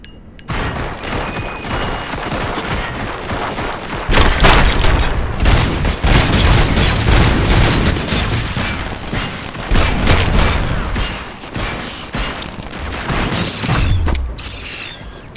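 Rapid gunfire and heavy booms ring out in a shooting fight in the video game RoboCop: Rogue City, loud and sustained with bursts, mechanical clanks and impacts throughout.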